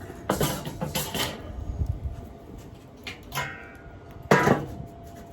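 A metal grill grate clanks and scrapes as it is set into a Weber kettle grill loaded with pecan wood, with several sharp metallic knocks separated by quieter shuffling.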